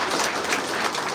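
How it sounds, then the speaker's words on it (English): Brief burst of dense audience applause for students and their parents at a biotechnology institute event, a close, even wash of clapping with no voices. "Let's give them a huge round of applause"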